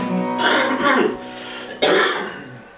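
A person coughs and clears their throat a couple of times in short bursts, close and loud, with voices around it.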